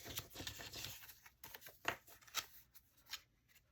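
Several quick, crisp snips and rustles of scissors cutting paper, irregular and close, with brief pauses between cuts.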